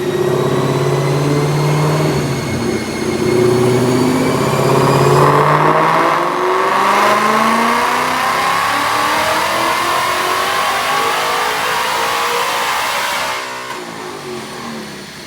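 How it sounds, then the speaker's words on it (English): Supercharged 2021 Ford Mustang Mach 1 with a ProCharger at 12 psi on 93 octane, manual transmission, revs up loudly on a DynoJet dyno, its engine note climbing steadily through a long pull before backing off at the end. "Check out this dyno pull."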